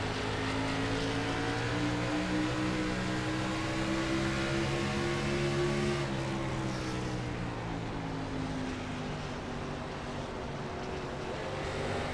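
Race car engine on the first lap at Richmond in iRacing, a loud steady drone with strong harmonic bands, holding pitch then dropping slightly around the midpoint as the car lifts into a corner.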